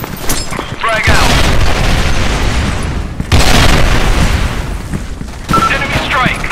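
Grenade explosions in the Special Force 2 team deathmatch shooter game: loud, heavy booms strike in succession, each rolling into a long, roaring rumble, with game voice calls mixed in.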